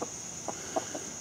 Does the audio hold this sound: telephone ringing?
no